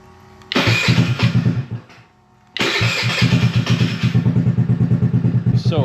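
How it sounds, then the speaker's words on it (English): A GY6 139QMB 50cc scooter engine fitted with a big bore kit, started without choke: a loud close revving burst that dies out, then a second start that catches and settles into a steady pulsing idle. "We're gonna start it up now and look for leaks."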